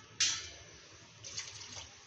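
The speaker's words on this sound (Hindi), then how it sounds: "अब उसमें पानी भी डाल देंगे थोड़ा सा।" Water is poured into a cooking pot holding cluster beans on a gas stove at home, a soft splash at the start followed by a faint, uneven trickle.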